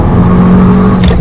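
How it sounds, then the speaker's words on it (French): Barty 195 biposto rally car engine, a loud steady drone with a deep low-pitched rumble across the whole moment and a brief higher burst near the end. "Je vous avais dit que j'essayais la Barty 195 biposto et c'est une pure caisse."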